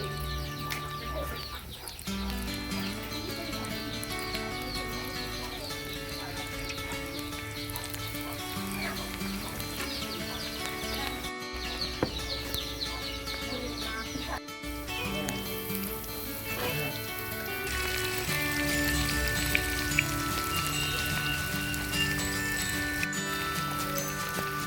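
Banana flower croquettes (mochar chop) sizzling steadily as they fry in hot oil, a continuous hiss with crackle running throughout at moderate level, with no talk.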